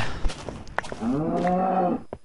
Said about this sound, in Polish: Moja no krowa mi tu mućka nad głową.